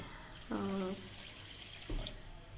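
About 200 ml of water is poured onto 400 g of sugar in a pan to make syrup for bread gulab jamun. A short, gurgling pour lasts about half a second, then a brief splash follows, with quiet room noise and no talking.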